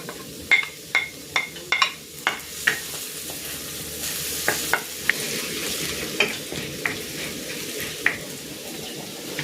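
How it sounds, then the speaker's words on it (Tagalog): Garlic sautéing in hot cooking oil in a pan for pancit bihon makes a steady sizzle, with a series of distinct spatula scrapes and taps close by. "Igigisa ko na tong bawang."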